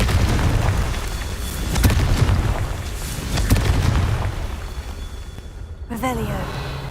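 Confringo blasting spells explode in Hogwarts Legacy with heavy, booming blasts, a couple of loud impacts rising out of a continuous rumbling roar of combat, followed by a brief voice at the end.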